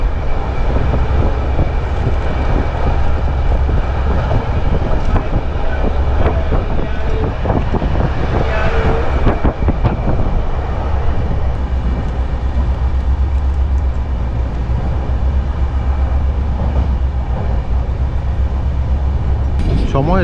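The Kamrup Express rumbles along from Dibrugarh toward New Tinsukia Junction at night, a loud continuous rolling roar with wheel rattles and clatter heard from inside the train, without a break.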